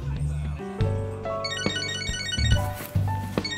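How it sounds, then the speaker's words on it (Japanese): A phone ringing in Catherine: Full Body, a melodic electronic ringtone of bright repeating tones mixed with background piano music, moderately loud and close. "電話か。"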